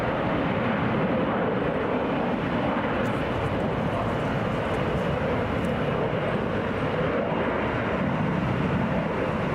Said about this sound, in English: Delta Airlines Flight 461 to Phoenix. Taking off right now.